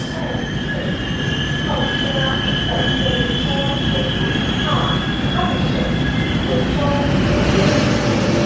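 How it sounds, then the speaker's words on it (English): A train rolls into a station in Taiwan with high metallic wheel squeal and steady rumbling, loud and close, with faint voices in the background. "There's the train we're waiting for."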